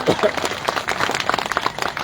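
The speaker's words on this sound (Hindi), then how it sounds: "बहुत अच्छा लगता है ताली बजाते हैं।" An audience at a Buddhist gathering breaks into a short burst of clapping, mixed with some voices.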